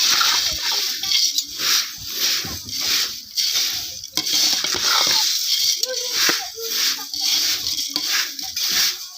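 Dagdi poha chivda being tossed and stirred in a pan, with dry flakes rustling and scraping in repeated waves close up, while a voice speaks quietly now and then.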